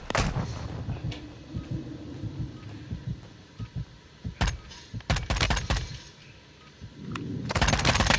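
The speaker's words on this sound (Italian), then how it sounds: "Il nemico mi spara!" Enemy gunfire in the shooter game Warzone 2.0: sharp, loud cracks and short bursts scattered through the clip, clustering densely in the middle, with heavier rumbling fire building at the end.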